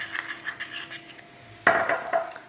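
A spoon scrapes and clinks against a bowl while salt is mixed into a slurry for vegetable croquettes, first as soft rhythmic rubbing, then a louder clatter of utensil on the bowl, close by with no talking.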